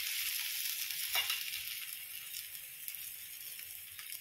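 Methi paratha sizzles in oil on a pan, a steady, moderately quiet frying hiss with a brief soft clatter near the start.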